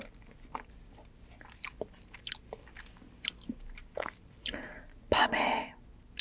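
Rasgulla (rasogolla) sweets chewed close to the mic, with soft irregular bites and squishy crunching that peaks in a louder burst near the end, over a quiet background.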